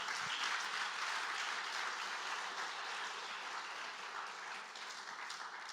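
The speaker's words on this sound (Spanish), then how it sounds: "Denle un aplauso al Señor si lo cree." A church congregation applauds during a service, a dense, even wash of many clapping hands at moderate distance that holds steadily throughout and eases slightly toward the end.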